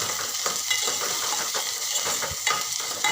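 Chopped mango, finely chopped medium onion and spring onion stirred together in a pan for chutney, a continuous soft sizzle with repeated scraping and stirring clinks of a spoon against metal, no talking.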